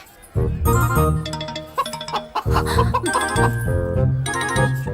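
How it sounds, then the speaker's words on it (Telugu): Chickens clucking in a Telugu village film scene, several birds close by with repeated short calls layered over music throughout. "ఇక్కడెక్కడో కోడి సౌండ్ అనిపిస్తుంది"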